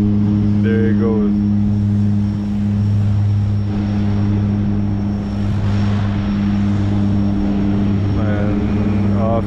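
A Harbour Air seaplane drones loudly with a steady propeller engine roar that holds throughout, fairly close, with a person talking over it.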